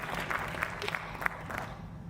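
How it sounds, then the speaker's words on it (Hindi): Applause from the audience at a stage play, a dense patter of clapping with a few louder individual claps standing out, at moderate volume over a low background murmur. "जोरदार तालियों से"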